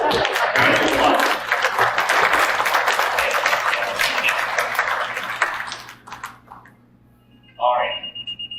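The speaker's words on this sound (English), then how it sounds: "Round of applause." Loud audience clapping at a comedy hypnosis show, a dense burst that fades over several seconds into scattered claps, followed by a short electronic tone and a voice speaking.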